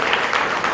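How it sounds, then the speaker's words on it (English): Dense, continuous applause from an awards-ceremony audience greeting the West Africa Entrepreneur of the Year 2013 winner, a loud, even wash of many hands clapping together. "Please give a warm round of applause"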